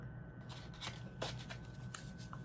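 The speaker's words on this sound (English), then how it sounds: "So I'm going to just keep shuffling for a few moments here." Botanical Dreams oracle cards are shuffled by hand in quick, soft, papery riffles and slides, quiet and close, over a faint steady room hum.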